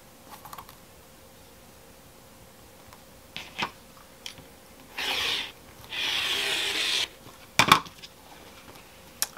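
Flannel fabric being cut into a section for a fat quarter quilt, quiet with scattered taps and clicks and a couple of longer scraping cuts across the material.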